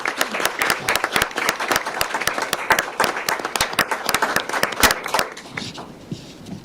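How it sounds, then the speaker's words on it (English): An audience at a county board of commissioners meeting claps for students, with sharp, fairly sparse individual claps from a modest group that thin out and fade away toward the end. "Please join us in giving them a round of applause for their outstanding achievements"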